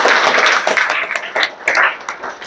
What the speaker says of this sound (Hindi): लगाओ ताली जी।